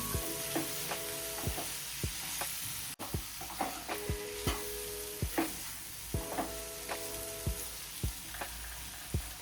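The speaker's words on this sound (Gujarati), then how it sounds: "ફરીથી બધું મિક્સ કરી લઈશું।" Sweet potato and tomato sabji stirred in a hot pan, a spoon scraping and tapping in a steady rhythm over a soft continuous sizzle, close and fairly quiet with no talk.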